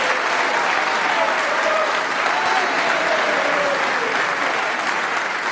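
A snooker crowd at the 2023 Champion of Champions breaks into dense, sustained applause that holds at a steady, loud level for several seconds.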